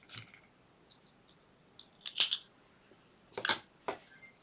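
Scissors snip crochet yarn for an earflap beanie, with a few quiet, crisp metallic clicks and snips spaced apart against a near-silent background.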